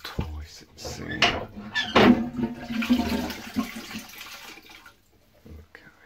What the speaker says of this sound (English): Let's give it one last flush